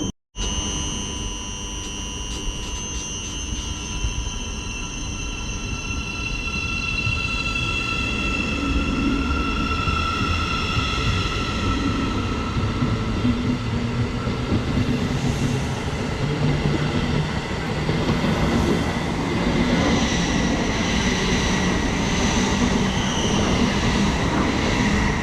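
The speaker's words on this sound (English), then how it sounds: "Thameslink service, GTR service to London King's Cross." A Thameslink Class 700 train runs through Stevenage station, its rising electric whine and tonal hum held steady while the rumble of wheels on rails builds beneath, close and loud.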